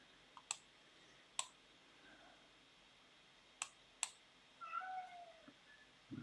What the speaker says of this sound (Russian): Опять кошка у меня.